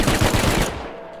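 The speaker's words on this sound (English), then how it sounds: "He's shooting at me right now." Rapid automatic gunfire in the survival game Rust, a quick burst of close, loud shots lasting under a second, then a fading tail.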